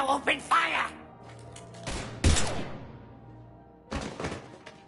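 Gunfire in a Mass Effect-style PlayStation 4 game, heard as a few sharp bursts and a heavy thud among game sound effects, with voices talking in between.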